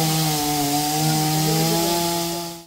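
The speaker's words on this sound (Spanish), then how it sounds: "Con motosierras retiraron las ramas para reabrir la circulación vehicular." Chainsaws cut fallen tree branches to reopen a road after a storm in Puebla. The engine holds a loud, steady whine under load, then cuts off abruptly at the end.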